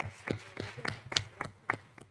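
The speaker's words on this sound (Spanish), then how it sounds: "Por favor, brindemos un aplauso" A small audience at a legal book fair panel gives scattered applause for a book's coordinator. A handful of sparse, uneven claps sound quiet and close, with gaps between them.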